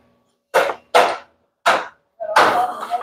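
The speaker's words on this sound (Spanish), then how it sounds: "Nuevamente vamos a limpiar la escoria producida por el aporte." Hammering off welding slag from a Ford Cargo 1721 propeller shaft bearing seat, four sharp metallic knocks at uneven intervals, close and loud, the last one followed by a longer ringing clatter.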